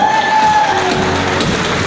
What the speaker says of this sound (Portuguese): Uma salva de palmas, né, não é, pessoal?